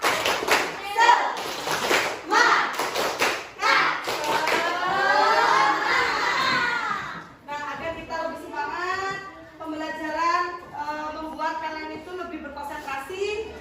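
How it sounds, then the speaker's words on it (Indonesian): Primary school children performing a rhythmic clapping chant in class, sharp patterned claps mixed with children's voices chanting together, followed by a teacher's voice talking. "kita melakukan tepuk semangat"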